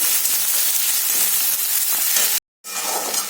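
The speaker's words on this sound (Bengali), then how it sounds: "পেঁয়াজটা দেখো আমার ভাজা হয়ে গেছে।" Onions frying in hot oil with cinnamon, cloves and cardamom, a loud steady sizzling hiss close up, briefly cut to silence near the end before resuming.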